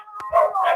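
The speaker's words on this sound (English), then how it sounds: "these dogs are making noise" Dogs barking close by outdoors while men play with them, two quick loud barks in succession with no voices over them.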